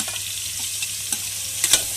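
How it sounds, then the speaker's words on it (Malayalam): Chopped onions frying in hot oil for a Kerala mackerel curry, a steady close sizzle with a few soft stirring scrapes and small pops near the end. "ഉള്ളി ഇറക്കിയിടാം."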